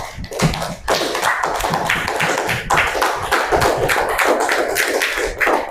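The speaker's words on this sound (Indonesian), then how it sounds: "Mantap, tepuk tangan dulu." Students in a classroom clap their hands together in a loud, dense burst of many overlapping claps, close by, briefly thinning about a second in before carrying on unevenly.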